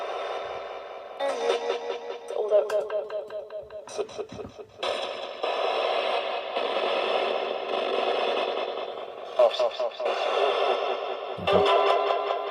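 Choppy, warbling ghost box radio static sweeping through bursts of noise and fragments of tone, washed in heavy reverb, loud and continuous with abrupt cuts.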